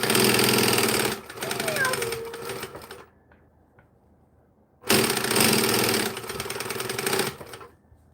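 A home sewing machine stitches fabric in two loud, close runs separated by a quiet pause of almost two seconds. A brief voice comes through during the first run.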